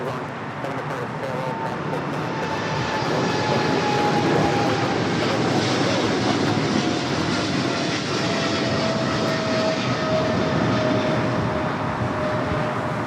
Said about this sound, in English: This is Korean Air Cargo 8208 taking off to Seoul on the 777 freighter.